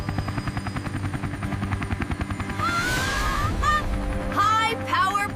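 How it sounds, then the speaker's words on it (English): A rescue helicopter's propellers thump in a steady rapid beat, loud and close, building into a heavier blast of rotor wash while voices speak over it. "High power propeller blast."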